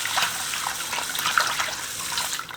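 Rice is rinsed by hand in water to make rice water for houseplants, with close, uneven sloshing and splashing that keeps going for a few seconds.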